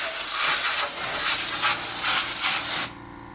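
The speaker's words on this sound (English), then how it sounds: "I'm going to spray underneath the needle." A loud, steady hiss of compressed air spraying lint from under the needle of an APQS long arm quilting machine in a few pulsing bursts, then it cuts off sharply, leaving near-silence.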